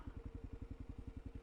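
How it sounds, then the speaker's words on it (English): Kawasaki KLR650 single-cylinder motorcycle idling after a test ride on a sunny Arizona day: a steady, even, low thumping pulse, close and alone with no talk. "Just sitting there idling like a new one, better than a new one."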